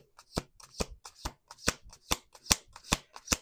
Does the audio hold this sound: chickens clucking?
no